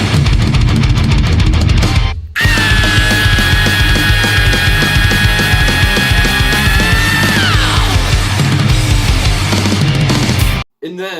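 A loud death metal recording in which the dense opening riff breaks off after a brief gap into the song's proper intro, with a sustained high lead line over pounding drums and distorted guitars.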